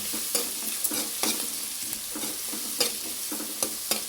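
Onions frying until golden in a pan, a steady close sizzle broken by repeated scraping stirs at an uneven rhythm.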